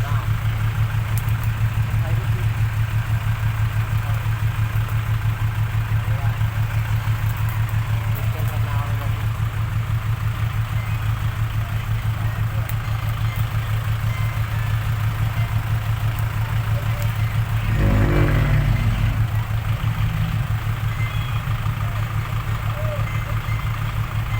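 A tractor engine idles steadily while stuck in mud, a constant low rumble, briefly rising once near the end.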